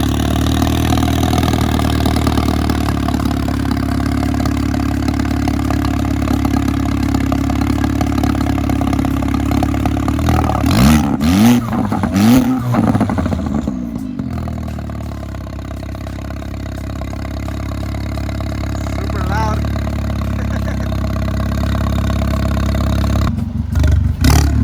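A Volkswagen Golf GTI with its downpipe installed upside down, exhausting under the hood, idles with a steady droning rumble, then revs sharply in a few rising bursts before settling back to idle, loud and close with no talk.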